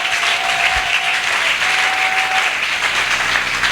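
A church congregation applauds steadily throughout, a dense, loud wash of clapping with no pauses, with a faint tone briefly audible beneath.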